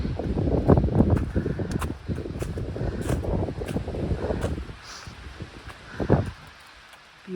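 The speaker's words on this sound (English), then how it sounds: "it's still really windy up here" Steady wind gusting outdoors high up on the Appalachian Trail, a broad rushing roar with buffeting against the microphone, easing slightly near the end.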